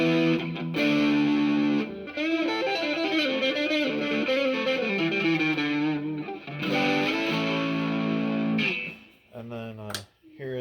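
Schecter Reaper 6FRS electric guitar played on the neck pickup, sustained effected notes and chords ringing in phrases with short gaps, clear and upfront.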